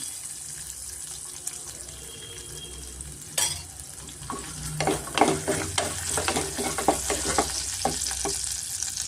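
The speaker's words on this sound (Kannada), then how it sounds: "ಇಷ್ಟನ್ನು ನಾವು ಸ್ವಲ್ಪ ಫ್ರೈ ಮಾಡ್ಕೊಳ್ಳೋಣ ಇದಕ್ಕೆ ನಾನು ಒಂದು ಸ್ಪೂನ್ ತುಪ್ಪ ಸೇರಿಸ್ಕೊತಾ ಇದ್ದೀನಿ" Ghee sizzles in a pan as cashews and chilies fry for khara rava pongal, with steady frying hiss and repeated clinks and scrapes of a spoon stirring throughout, close and moderately loud with no talking.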